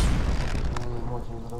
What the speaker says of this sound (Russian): Мощь взрывается.